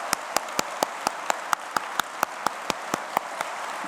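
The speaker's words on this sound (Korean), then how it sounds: "우리 모두 참여한 식구님들에게 환영과 감사의 박수를 올려드리겠습니다." A congregation at a New Year's Day 2023 prayer service claps in a slow, even rhythm, about four sharp claps per second in unison, steady and moderately loud over a faint room hiss.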